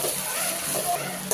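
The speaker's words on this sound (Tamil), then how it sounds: "நீலவாக்கில் கட் பண்ண 2 பெரிய சைஸ் வெங்காயம் நல்லா பொன்னிறமாக ஃப்ரை பண்ணி எடுத்துப்போம்" Two large onions sliced lengthwise frying until golden in a pan for chicken biryani, a steady dense sizzle throughout, close and loud, with no other sounds.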